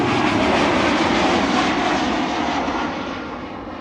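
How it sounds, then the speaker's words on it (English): Embraer E2 jet airliner at Amsterdam Schiphol Airport, a loud, steady engine roar filling the whole clip, alone with no talk, fading slightly toward the end as the plane passes. "Another E2 Embraer"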